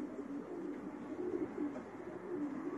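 Young racing pigeons coo softly and continuously at a modest distance, a low, steady murmur of overlapping calls with no talk over it.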